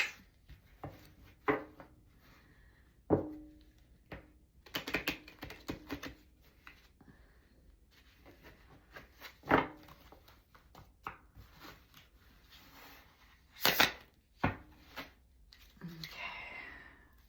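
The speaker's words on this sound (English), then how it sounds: "These ones are hard to shuffle." Thick 78-card Heaven and Earth tarot deck being shuffled by hand, irregular soft riffles, slaps and flicks in scattered bursts close by, with a few quiet breaths and faint voice sounds between them.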